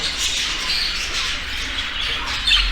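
A female creamino budgerigar squawks continuously, close and loud, in a sustained high, harsh chatter.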